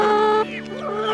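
Nasal, wavering chicken calls fill the short stretch, a close squawk sliding in pitch with a steady tone behind it.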